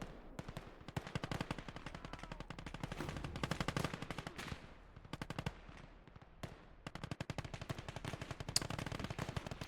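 Rapid machine-gun bursts and rifle shots from the WWII strategy game Gates of Hell: Ostfront, in a 4v4 battle involving T-34 tanks, rattling in dense, loud volleys with brief pauses between bursts.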